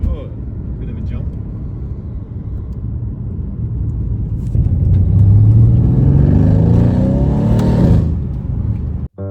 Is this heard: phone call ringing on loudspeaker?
no